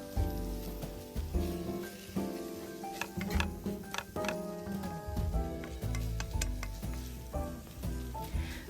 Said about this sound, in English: you're just going to brown the mince until it becomes brown and you no longer see any pink